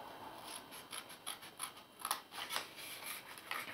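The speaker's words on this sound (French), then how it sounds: "Et nous allons découper la languette." Scissors cut a paper tab for a Christmas poinsettia lantern, making quick, faint, rhythmic snips close by in a quiet room.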